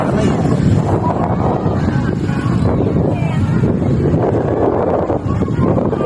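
Strong wind buffets the microphone in a constant loud roar, with rushing gusts and a faint hint of open water underneath.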